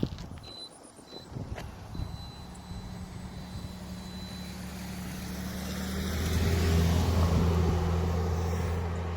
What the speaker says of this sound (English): we got a vehicle coming